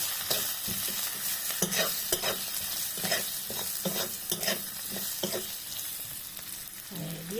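Spiced dried lotte fish stirred in a frying pan with red chili, a steady sizzle punctuated by repeated scraping strokes of a spatula at an uneven rhythm.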